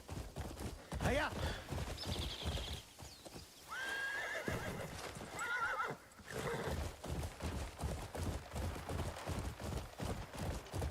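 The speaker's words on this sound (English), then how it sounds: "All right, we got a long-ass horse ride to do." A horse in the video game Crimson Desert gallops with rhythmic clip-clop hoofbeats and lets out a loud neigh, close and continuous, with someone talking over it.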